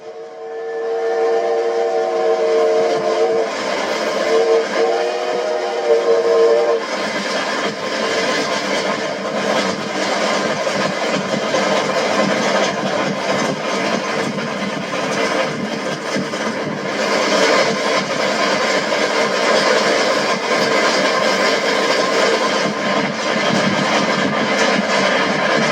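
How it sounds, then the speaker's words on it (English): Steam locomotive 3751 running across Oklahoma, its whistle sounding clearly at the start over a loud, steady roar of the engine and rolling cars that continues throughout. "Leaving Waynoka, after a brief stop for water, the train continues its trip across Oklahoma"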